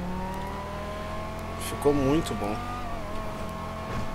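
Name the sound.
Banshee 900R car engine roar in video game GTA V Online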